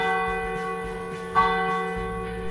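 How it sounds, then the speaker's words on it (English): Bells in a medieval bell tower in Faaborg, Denmark ring with sustained, humming overtones, and one brighter strike rises partway through over a steady low background. "The tower's bells still ring out four times a day, as they have for hundreds of years."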